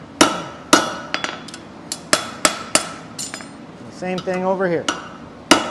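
A hammer drives nails into a cold horseshoe on a horse's hoof, giving about a dozen sharp metallic strikes at irregular intervals, up close, with a short burst of speech partway through.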